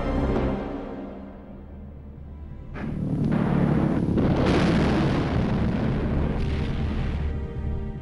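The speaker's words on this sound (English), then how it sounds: "the mighty bang as this early form of cruise missile crashed to the ground" A World War II V-1 flying bomb crashes to the ground and explodes, a loud, sustained roaring blast with heavy low rumble that swells and holds for several seconds.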